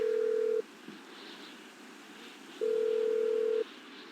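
A phone in the GTA 5 video game gives a steady electronic ringback tone in two beeps, a short one and then a longer one after a pause, clear over a quiet background hiss.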